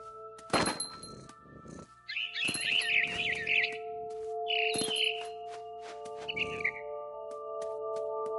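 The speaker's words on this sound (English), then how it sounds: "Then I heard chirping outside my window. It was a barn swallow going back to her nest." A barn swallow returning to its nest in What Remains of Edith Finch, giving several short bursts of bright chirps amid a few sharp thumps over a quiet steady hum.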